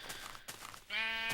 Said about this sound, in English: So here I find some sheep